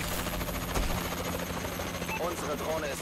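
Drone in the video game Call of Duty: Advanced Warfare, a constant loud rotor-like whirring drone that holds steady throughout, with game voice callouts over it.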